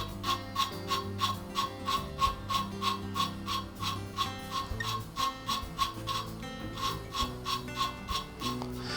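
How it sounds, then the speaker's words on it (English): An overhead-valve lawn mower engine valve is spun back and forth against its seat with lapping compound, giving a steady, rapid rasping rub with regular strokes, close and fairly loud, with no talking. "I'll spin it like this for about 10 to 30 seconds, and the compound will lap the two surfaces together."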